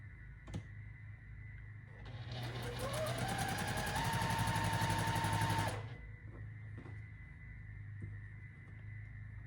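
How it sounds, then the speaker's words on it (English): A sewing machine stitching through a bulky quilt seam: a fast run of rapid mechanical stitching that rises in pitch as it speeds up, then stops abruptly, with quiet room hum before and after. "I'm going to try sewing it this way, but that's a bulky seam right there"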